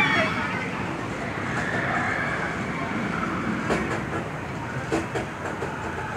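Sprocket Rockets roller coaster train at Six Flags Great America, a steady rumbling rail ride with rattling car noise throughout, nearby and moderately loud, with a few sharper clanks near the end and voices faintly mixed in.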